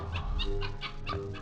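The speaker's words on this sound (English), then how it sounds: "Only a dog." A dog whimpers as a sound effect in an old radio drama, with a short run of close, plaintive whines and yips pulsing over about a second and a half, heard alone without speech.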